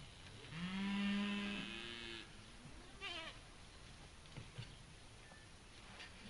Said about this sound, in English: It's the goats, of course.